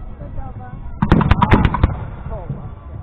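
Lines of musket-armed troops fire volleys in a strategy game set in a 1627 Polish-Swedish battle, with a quick cluster of sharp shots in the middle while someone comments over it.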